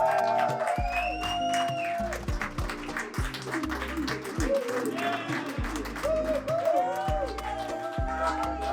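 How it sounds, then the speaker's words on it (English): A crowd applauds at a Canadian Labour Congress lobby day, the clapping steady throughout, mixed with cheering, chatter and tonal voices or music. "Give yourselves a round of applause."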